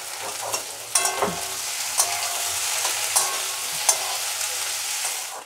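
Chopped vegetables with carrots, capsicum and green chilli crackle and sizzle steadily in a hot pan, with a spatula scraping and clacking against the metal every second or so.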